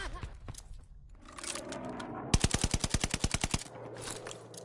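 A close, loud burst of rapid machine gun fire in the video game Call of Duty, about a dozen sharp evenly spaced shots in quick succession, preceded and followed by softer game sounds.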